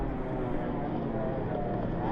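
Racing powerboat engine roaring steadily from on board Jeff Price's Lone Wolf race boat, number 12, loud and continuous with a dense low drone throughout.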